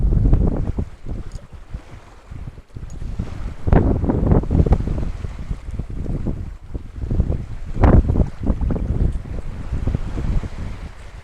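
Strong wind buffets a small fishing boat at sea, loud gusty rushing and microphone buffeting in uneven bursts throughout, with water and hull sounds beneath.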